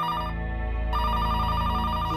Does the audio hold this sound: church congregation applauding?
no